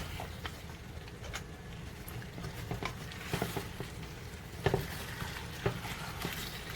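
Oxtail with potatoes and carrots braising in a tomato paste sauce, giving a quiet, low bubbling simmer with soft pops and a few stirring scrapes close by.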